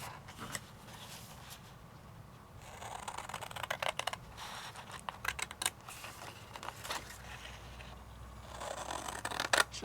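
Scissors snip and slide through paper between folds while a folio base is cut, with repeated crisp clicking cuts and rustling paper handling in close, quiet bursts, no talk.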